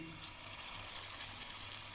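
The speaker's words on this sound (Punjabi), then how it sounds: "ਹੁਣ ਇਸ ਤੇ ਆਪਾਂ ਟਿੱਕੀ ਫਰਾਈ ਕਰਾਂਗੇ" Aloo tikki frying in hot refined oil on a griddle over a gas flame, a steady bright sizzle with faint spatters and no voices.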